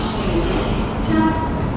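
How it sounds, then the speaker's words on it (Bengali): A Kharagpur local train stands at a station platform, its low, steady rumble of idling carriages running continuously with a faint tonal hum and busy platform noise around it. "এই যে আমাদের ট্রেন"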